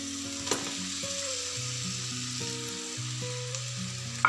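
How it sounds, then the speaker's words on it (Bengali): Chicken sizzling in a pan with a soy sauce mix, a steady moderate frying hiss beneath faint background music, with a short clatter near the start and a knock at the end. "এবার আমি চিকেনটা ঢেলে দিচ্ছি"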